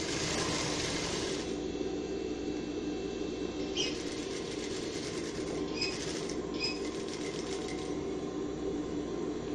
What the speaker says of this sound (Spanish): Vamos a coser aquí para cerrar nuestra bolsa y que las costuras no se sientan por la parte de adentro.